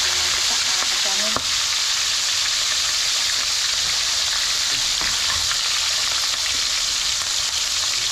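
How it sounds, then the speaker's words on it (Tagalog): Cooking oil sizzles hard in a frying pan as the first batch goes in, a loud, dense, unbroken hiss with occasional small pops from start to finish and no talking. "Kalsik-kalsik yung mantika"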